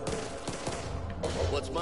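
Gunshots in Back 4 Blood, a few sharp close shots in quick succession over a continuous busy game background, with voices mixed in.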